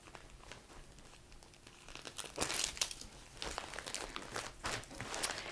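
A t-shirt mailer package being sealed, with steady close crinkling and rustling of plastic film and paper, plus sharper peeling and pressing sounds that grow busier partway through.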